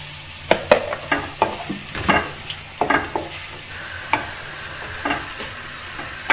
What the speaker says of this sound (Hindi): प्याज को गोल्डन ब्राउन करने तक अच्छी तरह भूनेंगे